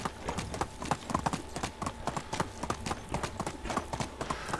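Horse hooves clip-clopping steadily during riding in the video game Medieval Dynasty, a continuous even trot of close, moderately loud hoofbeats.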